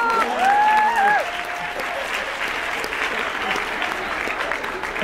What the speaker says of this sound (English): I'm gonna applaud for you.